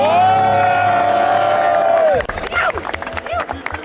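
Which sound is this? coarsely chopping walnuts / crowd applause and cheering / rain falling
crowd applause and cheering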